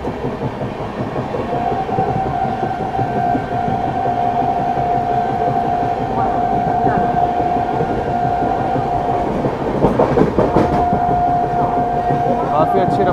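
Prayagraj–New Delhi Humsafar Express skipping Govindpuri station at speed, a steady loud roar of wheels and carriages on the rails, with a sustained horn-like tone and a voice talking over it.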